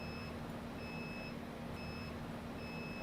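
Steady electronic beeping pulses at a regular rhythm above a constant hum and background drone, moderately faint with no voices over it.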